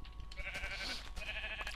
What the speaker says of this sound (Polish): A teraz owce mi tu przeszkadzają.